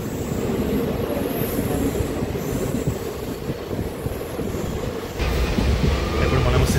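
A DEMU local train rolls out of Gundlapochampalli railway station bound for Siddipet, its loud steady rumble and rattle filling the carriage with faint wheel squeal, and the noise swells louder near the end.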